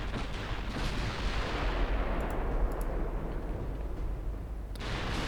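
Heavy 14-inch naval guns on a super battleship fire in Ultimate Admiral Dreadnoughts, producing a deep, continuous booming rumble of overlapping blasts that swells and fades slightly, with brief crackles on top and no voices.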